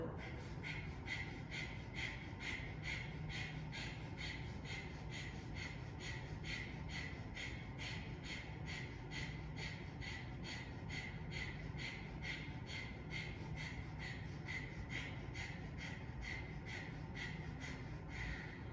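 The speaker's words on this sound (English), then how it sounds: "it's that effort of the navel snapping back that shoots little tiny bursts of air out" Rapid, forceful exhalations from yoga breath-of-fire practice, the navel snapping back to push out short bursts of air, repeating in a fast steady rhythm of about two per second, close and continuous throughout.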